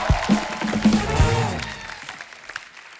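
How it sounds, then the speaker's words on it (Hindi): Applause from a TV comedy show studio audience with music underneath, loud at first and gradually fading over a few seconds. "जोरदार तालियां"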